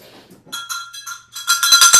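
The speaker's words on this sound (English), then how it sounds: "they want me to ring a bell this morning" A small bell is rung several times at a sacred community gathering, its bright metallic tones ringing close and getting louder and faster toward the end, with faint voices before the first strike.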